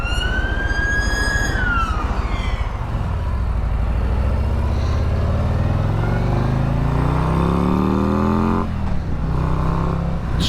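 A 2022 Harley-Davidson Street Glide ST with a 117 cubic inch engine of over 1900cc, loud and continuous, its deep engine note rising and falling as it revs, with a siren-like wailing tone sweeping through the first seconds.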